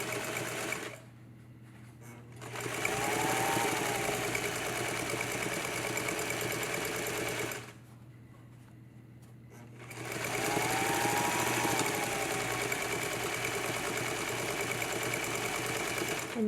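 A small sewing machine stitches a zipper pouch, running in two long stitching bursts, a rapid steady mechanical whirr, pausing briefly between them, close by.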